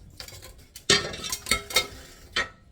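A utensil stirs plain mashed potato, with no butter or milk, into a tuna mixture for tuna cakes. A few close scraping strokes and light clinks against the bowl come in irregular bursts.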